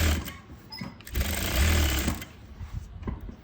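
A sewing machine stitches an elastic waistband, running in a close, steady mechanical whir that speeds up and slows with the stitching, with a low rumbling motor drone throughout.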